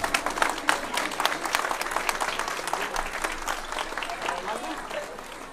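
Guests at a wedding celebration applaud in a steady wash of many hands clapping, moderately loud, with some voices mixed in beneath the clapping.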